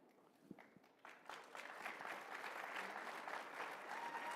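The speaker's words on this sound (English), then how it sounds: "I hate it when people clap for you." Audience applause at a CPAC conference, starting with a few scattered claps that swell after about a second into sustained, dense clapping from a large crowd, fairly distant and steady to the end.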